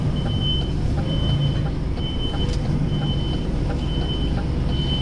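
An HGV truck reverses with its warning beeper pulsing in a steady repeating rhythm over a constant low diesel engine drone, heard from inside the cab.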